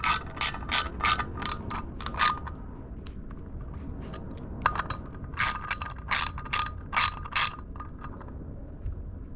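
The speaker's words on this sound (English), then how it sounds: "So we got our 3/8 socket. Tighten these up." Ratchet with a 3/8 socket tightening bolts on the rear suspension and drum brakes of a 1969 Dodge Charger, giving repeated bursts of quick clicking strokes with short pauses between them, close and fairly loud.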